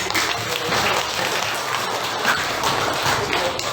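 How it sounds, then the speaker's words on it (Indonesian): A classroom of students gives a round of applause, with dense, steady clapping from many hands that fills the whole stretch evenly and without talk. "Ya, berikan aplaus."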